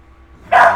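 Sassy, a house dog, lets out one sudden loud bark nearby after a quiet moment, the bark cutting off as the clip ends.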